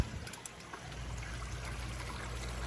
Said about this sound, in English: which feeds the waterfall coming down on the rocks.